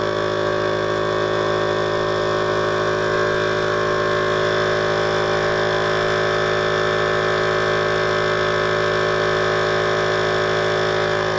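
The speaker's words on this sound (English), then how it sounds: "So I'm going to start the wine pump. It's going to suck wine up into this bottle." An electric all-in-one wine pump runs steadily as it sucks wine up into a bottle, giving a constant motor whir and hum with tonal whine that stays even and close throughout, with no talking.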